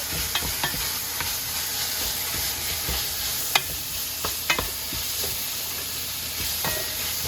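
Strips of pepper steak sizzle in an oiled pan over medium heat as seasoning is stirred in, with a constant hiss and sharp clicks of a utensil against the pan.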